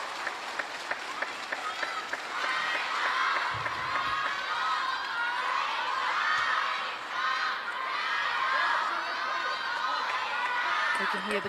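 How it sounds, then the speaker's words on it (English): A table tennis arena crowd at the women's singles world championships in Doha chants and cheers a player's name late in a tight game, a loud rhythmic roar of many voices with whoops and claps throughout. "You can hear the crowd cheering the name of Sun Yingsha"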